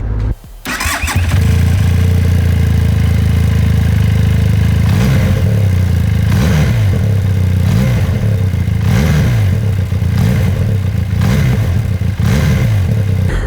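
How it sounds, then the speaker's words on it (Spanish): A Benelli Leoncino 500 Trail motorcycle engine starts and settles into a loud, steady close-up idle, with periodic throttle blips rising and falling every second or so. "El sonido del motor, aparte, es un sonido de motor muy bonito que pasa"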